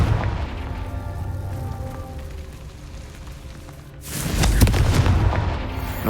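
A Confringo fire spell detonates in Hogwarts Legacy, a loud booming blast that rises suddenly about two-thirds through and rumbles on over a steady background of game ambience, with no speech.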